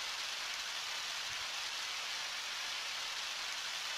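Steady, soft rainfall in the video game Undertale, an even hiss of falling rain with no pauses, alone and fairly quiet.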